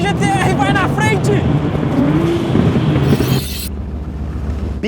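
A Mercedes AMG GT R and a Nissan GT-R launch side by side in a drag race, engines roaring loudly up close with rising revs and tire noise before the sound cuts back as they pull away, with excited voices underneath.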